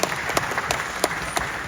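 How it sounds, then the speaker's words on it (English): Steady applause from a seated audience in a hall, a dense wash of many hands clapping with a few sharper claps standing out, sustained throughout. "let's give a big round of applause for Ashley"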